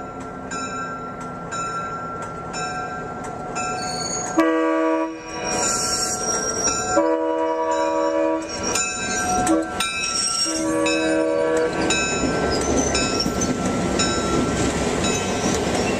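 Mt Rainier Scenic Railroad locomotive number 70 rolls along on a run toward Tacoma, its horn sounding in several loud, sustained blasts over the steady rumble and clatter of the train, with no talking.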